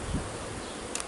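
Honeybees at an open beehive during a hive inspection to head off swarming, a low steady buzz lying faint under a short, quiet stretch with no talk.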